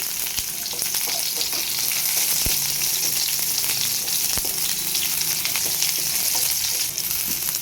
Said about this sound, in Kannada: ಮೊದಲು ಒಂದು ಪ್ಯಾನ್ಗೆ ಆಯಿಲ್ ಹಾಕ್ಕೊತಾ ಇದ್ದೀನಿ ಒಂದು ಸ್ಪೂನ್ ಇದಕ್ಕೆ ಹೀರಿಲ್ಲಿ ಹಾಕೋತಾ ಇದೀನಿ